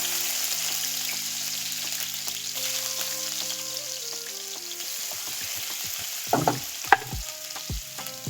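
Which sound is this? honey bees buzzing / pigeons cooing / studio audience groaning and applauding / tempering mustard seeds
tempering mustard seeds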